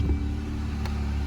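A Jeep JL engine idles steadily right after starting, a close, even mid-low hum and rumble with no talk over it.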